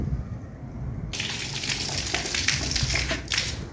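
Water gushing strongly from a tap while washing down an old house, a loud steady rushing flow that swells abruptly after a second and continues with splashing throughout.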